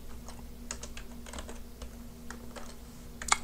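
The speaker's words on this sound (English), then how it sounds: "So I type in the same commands" Typing on a computer keyboard during a Python programming lecture, with a steady run of light, irregular key clicks over a constant low hum and one sharper keystroke near the end; no talking.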